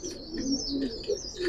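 Giribaz pigeons coo softly nearby, a few low rolling calls overlapping with faint higher chirps, with no talk.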